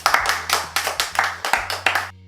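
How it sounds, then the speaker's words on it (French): A single person clapping hands during a French podcast, about eight sharp claps in an uneven rhythm, close and clear, ending abruptly. "Très belle histoire, j'applaudis."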